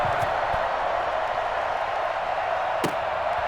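Stadium crowd in Madden NFL 21 as the home side readies to face the Baltimore Ravens, a steady, dense roar of cheering with a faint sharp burst near the end.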